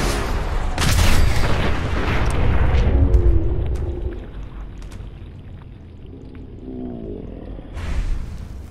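A mini nuke detonates in Fallout 4, a loud deep boom with a long rumbling roar that dies away over several seconds, while game voices and a shout come through in the middle of it.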